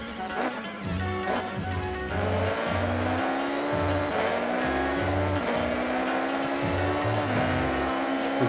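Time attack race cars in Forza Horizon 6 roar at high revs, with engine pitch climbing and dropping through repeated gear shifts, plus intermittent tire squeal, loud and continuous throughout.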